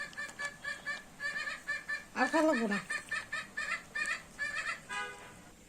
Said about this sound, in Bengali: পাখির শব্দ হচ্ছে, ওই যে পাখি দেখছে